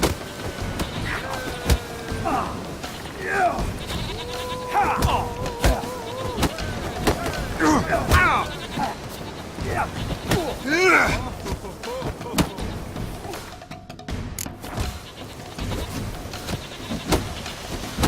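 Goats in The Witcher 3 bleat repeatedly amid game sounds and spoken voices, their calls rising and falling in short bursts over a busy, continuous background.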